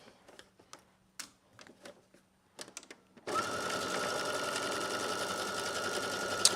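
Light clicks and taps at the start give way to a sewing machine stitching a slip dress seam at a 5/8-inch allowance with a regular-length stitch, a steady, close, continuous whir that runs to the end.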